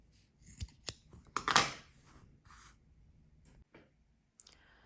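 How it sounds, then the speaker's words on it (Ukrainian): Scissors trimming the ends of macrame cord after a knot, a handful of close, crisp snips and clicks in quick succession with quiet pauses between, no talking. "І обрізаю решту."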